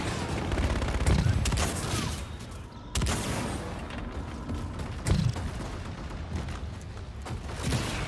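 Call of Duty Infinite Warfare team deathmatch gunfire on the Precinct map plays as a quiet, steady chatter of rapid shots. Mechanical clicks and a few sharper bursts run through it, with no talking.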